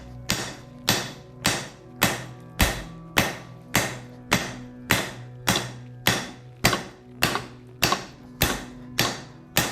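A hand hammer strikes a katana blade over and over to smooth and bevel it, giving about sixteen sharp, evenly spaced ringing metal blows at close range.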